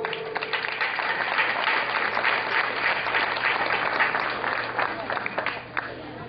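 A school audience gives a strong, warm round of applause welcoming a professor at a preparatory school ceremony; thick, sustained clapping continues evenly throughout at moderate loudness.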